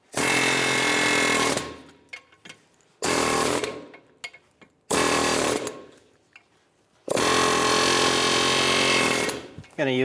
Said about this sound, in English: Using an air hammer with a chisel bit, we're going to chisel all of these pieces off.